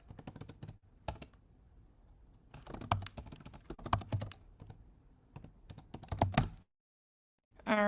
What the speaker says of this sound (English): I'm going to enter my password.